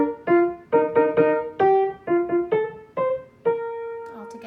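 Banyan Tree played as two parts together, a harmonizing top line over the melody, in clear plucked or struck notes with an even, moderate rhythm and a longer held note at the end; no talking.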